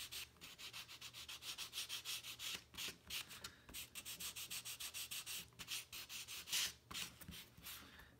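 Sandpaper rubs the edges of a 12-inch balsa wood glider in quick, steady back-and-forth strokes, a close, soft rhythmic scratching that continues without pause.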